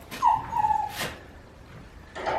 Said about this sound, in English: That one you hear crying in the background is